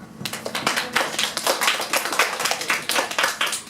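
Classroom audience clapping after a student Genius Hour presentation, a brisk patter of many hands starting abruptly and continuing steadily, moderately near with no talk.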